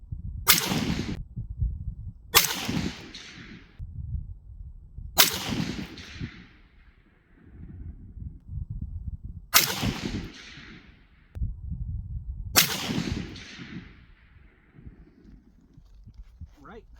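Five rifle shots from 168 grain Federal Gold Medal Match ammunition, fired at an outdoor range, each a sharp loud crack with a ringing tail, spaced a few seconds apart, with someone talking between them.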